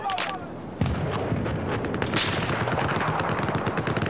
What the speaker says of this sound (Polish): Czy ten koleś do mnie strzela, czy do kogo?